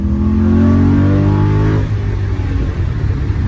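A 2005 Saleen S281 accelerates hard, its engine note climbing steadily in pitch for nearly two seconds, then dropping into a loud, rough rumble as it shifts and keeps pulling.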